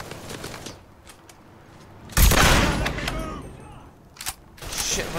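Gunfire erupts in Mafia III, a sudden loud burst of shots followed by a sustained rattle that tapers off, with another sharp crack near the end.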